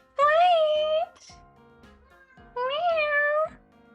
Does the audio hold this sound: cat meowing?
yes